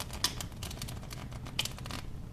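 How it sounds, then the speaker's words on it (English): A clumsy beginner's riffle shuffle of playing cards, done in chunks: two short, quiet bursts of fluttering card clicks, each followed by softer rustling as the pack is squared, heard up close without speech. "you'll probably have a kind of shuffle where the packs are in chunks"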